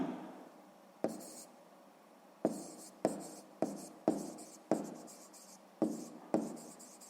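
Handwriting on paper during a sixth-grade maths exercise: about nine sharp taps mark pen strokes, each followed by a brief scratchy rustle, close and quiet with short pauses between, and no voices.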